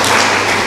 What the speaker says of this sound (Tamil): கைதட்டுங்க நீங்கள் எல்லாம் சேர்ந்து